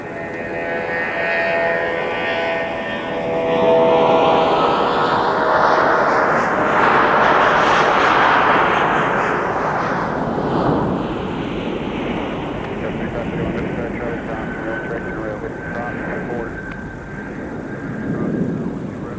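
A heavily loaded airliner powers up to takeoff thrust on a winter runway at Minneapolis–St. Paul airport, a loud, broad jet roar swelling and sweeping past, then sustaining as the aircraft rolls away; a voice talks over it.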